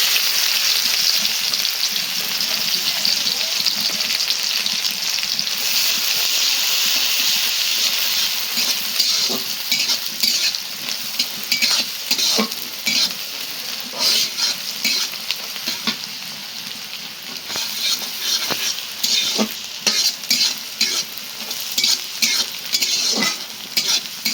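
Sliced onions frying in hot oil in a pan, a continuous close sizzle with frequent scraping and clinking as the spatula stirs them, no talking.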